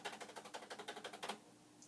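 Repeated F7 key presses on an original Commodore PET-style Vic-20 keyboard give a quick, even train of faint mechanical clacks, close up, ending after about a dozen strokes.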